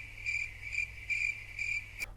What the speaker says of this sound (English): I need some crickets.